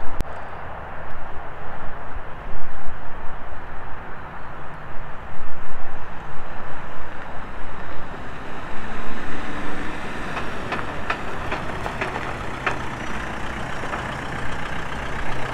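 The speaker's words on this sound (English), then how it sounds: "It sounds like drive shaft." A faulty drive shaft on a 2016 Mercedes Citan van under way: a loud, steady, droning rumble throughout, with a few faint clicks near the end and no talking.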